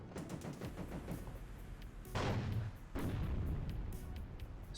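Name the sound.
gunfire in the video game WARNO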